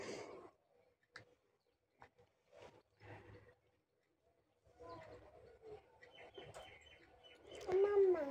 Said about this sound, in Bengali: আর দেখো চারিদিকে পাখির কি সুন্দর ডাকছে